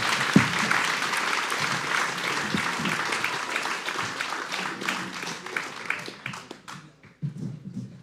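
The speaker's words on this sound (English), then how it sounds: "Let's give these guys a round of applause." An audience claps steadily for several seconds, a dense wash of applause that thins out and fades toward the end.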